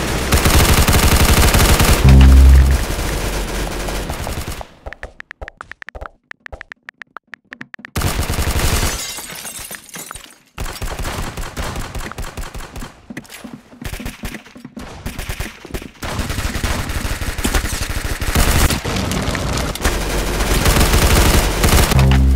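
Gunfire in the Roblox Arsenal video game: dense, loud bursts of rapid shooting with short silent gaps between volleys, then sustained fire toward the end.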